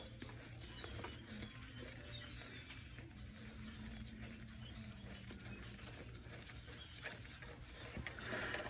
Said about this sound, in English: You put it on the side, unscrew the bolt.